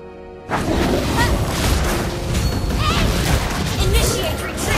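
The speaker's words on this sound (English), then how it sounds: "Our turret has been destroyed." A turret is destroyed in the mobile game Mobile Legends, a loud crashing boom that rolls into continuous battle smashes and whooshes, with game voices speaking over it.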